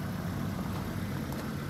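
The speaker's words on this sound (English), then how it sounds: "Engine sounds sweet," A black 2008 Ford C-Max petrol or diesel engine idles steadily with a low, even rumble, heard alone and fairly close with no talk over it.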